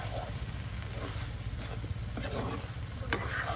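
Water spinach (kolmi shak) wilts down in a pan over the heat, giving a steady close sizzle with soft scraping and stirring clicks throughout and no talk.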